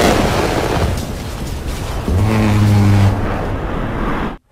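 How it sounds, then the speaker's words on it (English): Multi-cannon fire in the space combat game Elite: Dangerous: a steady, dense stream of muffled metallic shots forming a sustained rumble, with a tonal drone layered in midway before it cuts off abruptly. "The multi-cannon has this more metallic sound, but it's a lot more quiet and subtle than other games like."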